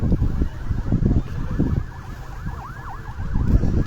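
Fire engine sirens wail, sweeping up and down in the distance during a windy wildfire in Bergama, Turkey, rising over crackling, gusty background noise, gradually growing more distinct as they approach.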